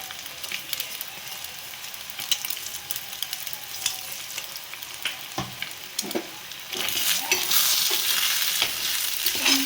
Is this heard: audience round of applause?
no